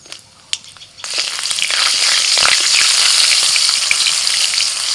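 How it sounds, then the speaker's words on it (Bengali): Black cumin and slit green chillies are dropped into hot oil left over from frying fish. After a few faint taps, a loud crackling sizzle bursts in and keeps going with stirring noises, and nobody speaks. "হ্যাঁ, মাছ ভাজার ওই তেলেতেই ফোড়ন দিচ্ছি। কালো জিরে,"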